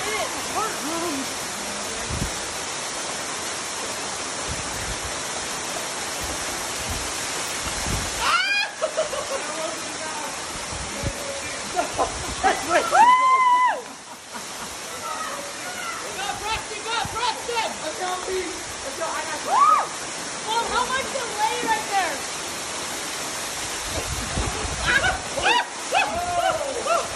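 A waterfall on the Rocky Mouth Trail gives a constant broadband rush throughout, with people talking and calling out over it and occasional splashes nearby.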